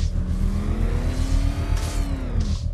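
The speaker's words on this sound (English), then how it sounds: "fire winch, rev up engine" A vehicle engine in Batman: Arkham Knight revs hard and steadily, a loud continuous growl with pitch climbing and wavering throughout, close up and without talk.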